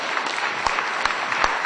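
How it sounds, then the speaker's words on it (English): Audience applause at a 2007 web technology keynote in Norway, a steady wash of clapping throughout with a few sharper claps standing out, moderately loud and without voices. "Give him a round of applause."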